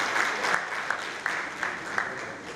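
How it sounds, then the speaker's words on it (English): A crowd at a youth symposium in Lagos gives a sustained round of applause for a political figure, steady and fairly loud, with a few sharper claps standing out and a voice faintly underneath. "A big round of applause for Asiwaju Bola Ahmed Tinubu."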